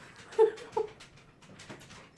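An old dog at an open front door gives two short, faint whimpers close together early on, then quiet room noise.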